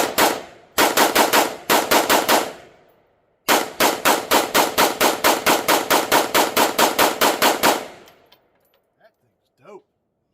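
Radian Model 1 rifle fired rapidly in long mag-dumping bursts on a range, loud sharp shots in quick even succession with a brief pause, then quiet with faint sounds at the end.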